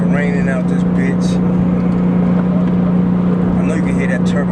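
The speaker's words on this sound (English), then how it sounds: "I know you can hear that turbo engine roaring." A steady, droning Porsche 911 Turbo engine hums low and constant from inside the cabin, with a faint hiss of rain in the background.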